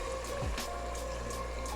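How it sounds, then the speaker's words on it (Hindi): A glass of water poured into a cooking aloo gosht mutton curry with potatoes makes a steady, even rushing pour with no talking. "1 गिलास के जितना पानी डालने लगी हूँ"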